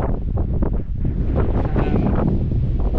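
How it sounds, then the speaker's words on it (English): Strong storm gusts batter a GoPro microphone on a coastal road by a bay, producing loud, continuous low rumbling buffets with no let-up. "I think this is going to be really a test of the GoPro's wind cancelling capabilities, because it is pretty much blowing its head off"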